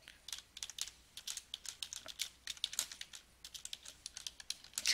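Rapid, light clicking of fingers typing on a computer keyboard, a steady irregular patter of closely spaced keystrokes with no pauses, quiet and close with no voices.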